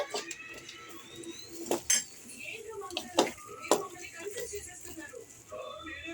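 Potato pieces are mixed with salt and chilli powder in a bowl, giving irregular clinks and scrapes of a spoon against the dish, fairly quiet and scattered.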